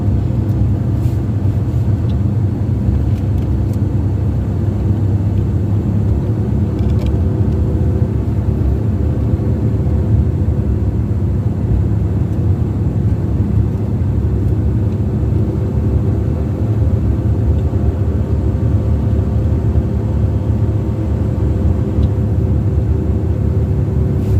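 A car drives through a canyon in Colorado, its steady engine and road rumble filling the cabin at a constant, fairly loud level for the whole stretch, with no talk.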